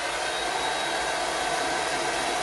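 A hair dryer blows steadily and loudly without a break, drying hair along the part while styling a center-part hairstyle.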